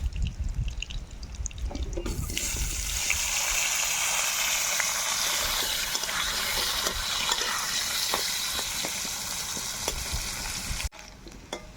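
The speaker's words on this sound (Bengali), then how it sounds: "আর কড়াই যে তেল রয়েছে ওই তেলেই আমি আলু ভেজে নেব।" Potatoes frying in a wok of hot oil left over from frying fish give a loud, steady sizzle that starts after about two seconds and holds until near the end.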